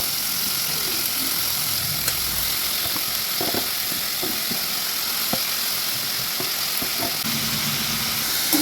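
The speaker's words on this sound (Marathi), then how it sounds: "थोडंसं परतून घेऊया आपण सगळ्या भाजी टाकून।" Mixed vegetables for momo filling sautéing in a pan, a loud continuous sizzle with occasional soft spatula scrapes and taps close by.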